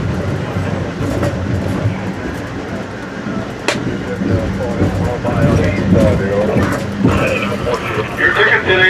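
An Amtrak excursion train, a farewell run for the AEM-7 electric locomotive from Washington, D.C., rolls along the rails. The interior rumble and rail clatter are steady and loud, with a sharp knock partway through and rising squeal-like tones near the end.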